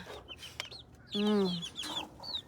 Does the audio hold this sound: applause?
no